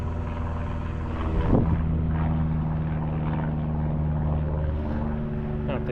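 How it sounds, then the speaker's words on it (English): A plane passes overhead above a farm field, a steady low droning hum with layered engine harmonics holding fairly loud throughout, a brief louder rumble near the start and faint voices mixed underneath. "there's a plane flying over"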